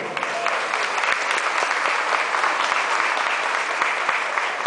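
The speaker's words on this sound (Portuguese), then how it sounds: "uma salva de palmas, nosso secretário" Audience applause greeting a state secretary at a stage show, loud dense clapping from a large crowd, steady and close throughout with a few sharper claps standing out.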